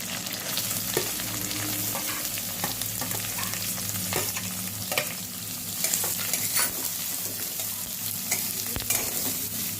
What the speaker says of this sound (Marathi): आता आपण कांदा टाकू